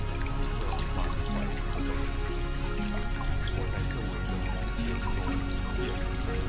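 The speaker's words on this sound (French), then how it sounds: "bercé par le doux clapotis de la fontaine" A monastery fountain gently laps and trickles, a continuous close splashing with tiny drips and bubbling water running steadily without pause.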